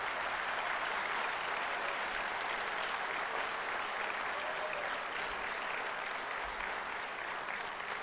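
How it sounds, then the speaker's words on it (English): Sustained applause fills a large hall at a graduation convocation, a steady dense clapping from a big audience, somewhat distant and even in level throughout. "May I ask our graduates to let this hall resonate in loud applause"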